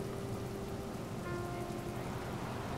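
Steady rain falling on an empty street at night, a dense, even hiss of drops close by with no other sounds breaking through.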